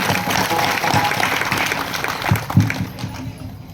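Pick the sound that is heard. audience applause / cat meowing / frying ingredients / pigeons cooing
audience applause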